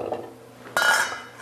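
Chopped pumpkin pieces tipped into a cooking pot while making harvest pumpkin scones: one close, sudden clatter with a short rattling tail, alone and with no talk.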